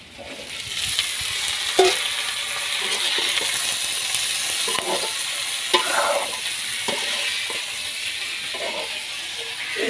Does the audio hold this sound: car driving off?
no